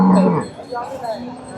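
Cow lowing once at a busy cattle market, a loud close moo that fades into lighter background market noise.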